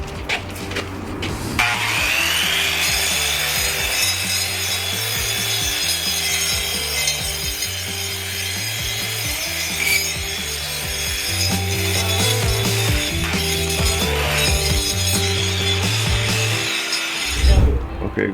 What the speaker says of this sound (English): I used my grinder and I grind that off